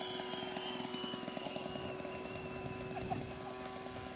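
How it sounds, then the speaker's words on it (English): A radio-controlled scale model aircraft comes in to land in a strong crosswind, its engine giving a steady, moderately distant drone that holds at an even level throughout. "Kim Foster's coming home on his second flight Saturday"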